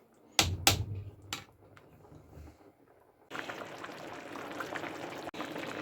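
Zucchini caviar simmers in a pot with a steady, close bubbling hiss. A few clunks and knocks come first, then a brief quieter stretch before the continuous bubbling begins.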